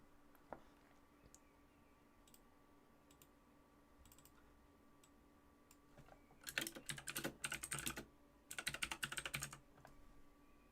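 Loud clicky computer keyboard typed on by an airshow organiser, in two dense bursts of rapid keystrokes after a quiet stretch with a single early click, close to the mic with no talk.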